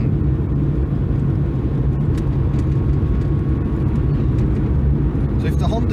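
Steady broadband road roar and tyre noise from a 1979 Honda Accord 1.6 five-speed cruising on a road, a constant rumble heard from inside the car without pauses.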